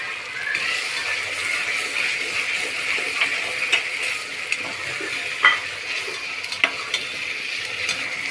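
Onions sizzle in hot oil with ginger-garlic paste for a quick chicken biryani, a steady close frying hiss punctuated by scraping stirs and occasional clinks of a spoon against the pan.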